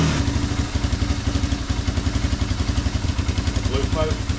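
A Honda Big Red three-wheeler engine idles close by with an uneven, slightly surging putter and steady rapid firing pulses. A voice speaks over it near the end.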